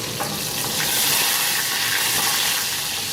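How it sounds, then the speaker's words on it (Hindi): Spice-stuffed green chillies fry in a hot pan with oil, giving a steady loud hiss and sizzle with faint crackles throughout and no voices. "और मिर्चें हमारी फ्राई हो रही हैं"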